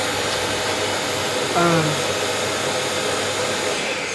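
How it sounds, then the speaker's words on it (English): A Kärcher multi-purpose vacuum cleaner runs with a steady, loud broadband whir for the whole stretch, with a single brief spoken word near the start. "this is for me the perfect cleaner, the perfect vacuum cleaner"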